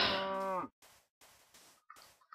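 A cow mooing in Minecraft, one long, loud moo that tapers off, followed by several quieter, brief in-game sounds.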